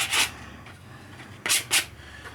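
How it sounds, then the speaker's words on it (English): Sandpaper on a curved sanding belt rubbed by hand over a wooden workpiece, giving three short close raspy strokes, one early and two in quick succession near the end, with quiet pauses between. "This is actually a sanding belt that I'm using here that's just perfect for this job. Just put a little curve to that sandpaper and get right in there."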